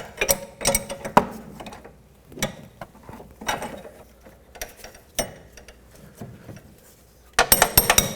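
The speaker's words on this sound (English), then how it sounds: "I'm just going to use a ratchet and take it off the rest of the way" A ratchet wrench spins off the inner tie rod on the steering rack of a Pontiac G6, giving bursts of rapid clicking pawl ratcheting separated by short pauses and light metallic handling sounds, with a final fast flurry of clicks.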